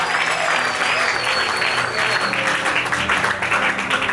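Church congregation applauding and cheering in sustained, dense clapping throughout, with crowd voices mixed in and a high whistle-like tone drifting above.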